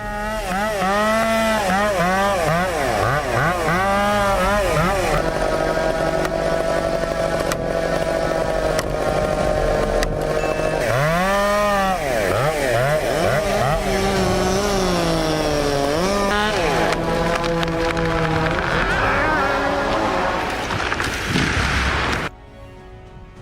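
A loud 120cc chainsaw with a 90 cm bar, spinning at 9,000 RPM, revs and bogs continuously, its engine pitch rising and falling as it bites into a damaged tree trunk, with a few short pauses before cutting off.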